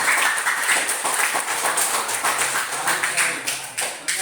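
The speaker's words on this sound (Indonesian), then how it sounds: "Tepuk tangannya." Students in a classroom clap their hands in applause, a quick run of close, uneven claps in a lively rhythm, with some voices mixed in underneath.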